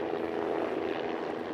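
Memorial flyover at a police officer's graveside service by aircraft and Department of Public Safety, Life Flight and medical helicopters, a steady loud engine and rotor roar passing overhead with no talk.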